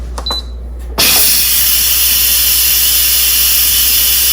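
A pressure cooker on quick release, a sudden loud rush of venting steam that turns into a steady, broadband hiss after a few faint clicks at the start, close and unbroken, with no voices.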